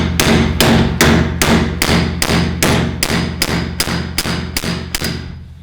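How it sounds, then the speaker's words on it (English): A hammer strikes vice grips to pull a stuck key on a 670cc dragster project, about a dozen loud, sharp metallic blows at a steady rhythm, close by, with no talking. "I'm gonna be hammering on them."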